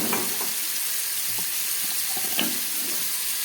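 Prawns sizzle steadily in hot oil with tomato and onion, a dense, continuous frying crackle with occasional soft stirring scrapes, close and even throughout.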